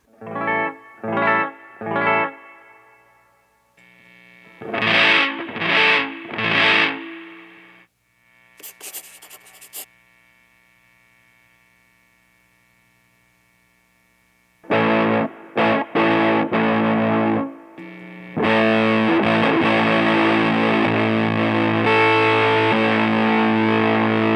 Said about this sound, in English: Running the Big Muff into a super clean and bright amp can sound very brittle.